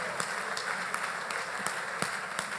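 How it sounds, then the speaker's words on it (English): Seated audience at a talk on economics and inflation giving a round of applause, a moderate, even patter of many hands with a few sharper individual claps poking through. "Please, a round of applause for Dr."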